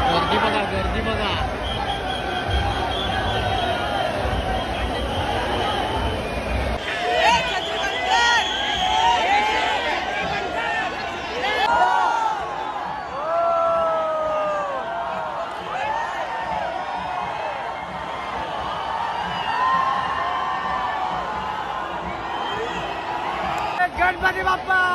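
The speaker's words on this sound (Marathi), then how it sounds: "गर्दी बघा गर्दी बघा." A large crowd gathers for the arrival procession of the Chintamani Ganesh idol in Chinchpokli, Mumbai, a constant babble of many voices with shouts and whoops rising over it, loud and close throughout.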